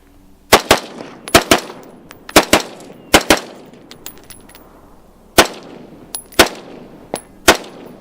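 Gunfire at an outdoor range while testing Mission First Tactical magazines: loud, sharp rifle shots fired singly and in quick pairs, about a dozen over several seconds, each with a ringing echo and no talking.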